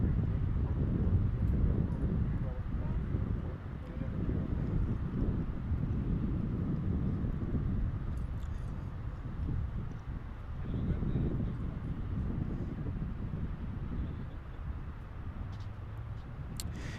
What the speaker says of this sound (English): This is American Airlines Dreamliner.